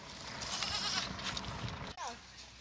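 Goats kept at a countryside home in the province, one bleating loudly and nearby with a wavering cry near the end, over outdoor background noise.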